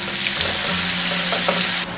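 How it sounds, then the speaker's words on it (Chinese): Minced garlic and diced red pepper stir-fried in hot oil in a wok, giving a steady loud sizzle with the scrape of stirring running throughout, no voices. "红椒粒炒香"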